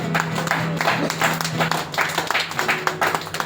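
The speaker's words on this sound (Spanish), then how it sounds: "Denle una salva de palmas, aleluya." A Pentecostal church congregation claps in praise after a sung chorus, dense rhythmic applause filling the room, with voices and a sustained tone underneath.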